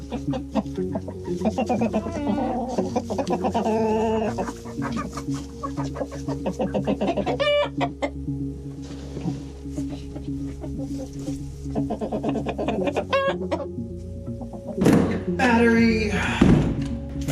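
Hens clucking and squawking in bursts inside a chicken coop over a steady low hum, with a few louder calls near the end and occasional knocks.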